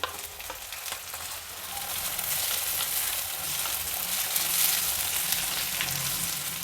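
Chopped onion and tomato frying together in a pan, giving a steady, dense sizzle with soft stirring scrapes that holds level throughout, with no voices.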